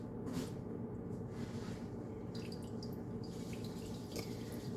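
Water drips faintly from pumpkin puree squeezed in cheesecloth, a few soft, irregular drops and trickles over a quiet room background.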